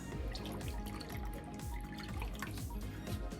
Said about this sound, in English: We add 1 cup of cold tap water to it.